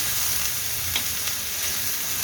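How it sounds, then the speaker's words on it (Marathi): Radish bhaji sizzles on an iron tawa, a dense, steady frying hiss close up and unbroken, with faint stirring and no talk. "ते त्याला लोखंडी तव्यावर बनवते मस्त छान अशी भाजी"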